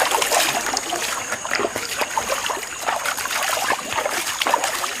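Water pours and splashes steadily over a person's body during a baptism-style cleansing ritual, a close, continuous trickling and spattering that runs for several seconds without pause.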